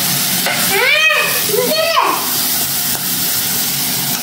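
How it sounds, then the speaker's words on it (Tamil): Food frying in a pan during home cooking, with a steady crackling sizzle under the whole stretch while a few rising whistle-like squeals pass over it near the start. "பொரிக்குது"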